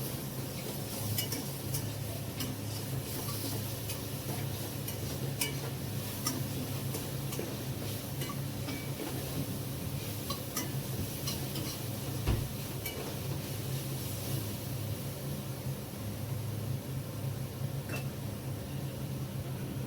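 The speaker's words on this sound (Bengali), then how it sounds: "একটু নেড়ে নেবো ভালো করে।" A spatula ticks against a pan in a quick, even rhythm while vegetables and rice are stirred, over a low background hum.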